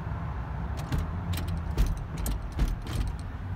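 A worn, loose GM tilt steering column wiggled by hand, rattling and clunking in short irregular knocks with a metallic jangle, close up and continuous for a few seconds.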